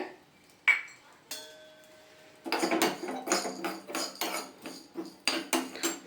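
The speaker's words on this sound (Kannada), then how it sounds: "ಇದರಲ್ಲಿ ನಾನು ಇವಾಗ ಜೀರಿಗೆ ಮೆಣಸು ಏನು ತೋರಿಸಿದ್ನಲ್ಲ ಅದನ್ನು ಡ್ರೈ ರೋಸ್ಟ್ ಮಾಡ್ಕೋಬೇಕಾಗುತ್ತೆ" Cumin and black pepper dry roasted in a small pan, with a few metallic clinks followed by a rapid run of scraping, tapping strokes of a utensil against the pan, close and fairly quiet.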